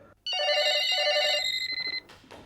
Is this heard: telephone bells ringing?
yes